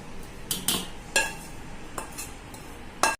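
Roasted wheat flour being mixed in a metal pot, with a few scattered clinks and scrapes of a utensil against the pot, close and fairly quiet, no talking.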